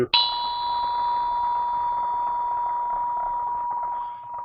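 A crystal bell with its center ringer removed is struck once, then hums a pure sustained tone that rings on steadily, near and clear, with no voices.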